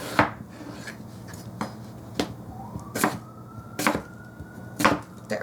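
Knife chopping a potato into pieces on a board for Polish pickle soup, about seven sharp, separate knocks at an uneven pace, close and clear, with no talk.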